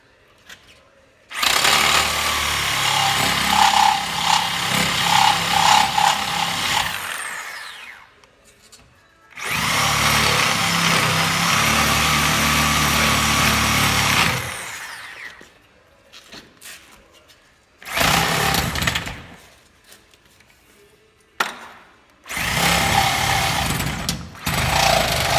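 A loud power tool cuts through the rubber subframe bushings of a 2015 Ford Mustang in long bursts, stopping and starting several times, with short gaps of quiet between runs.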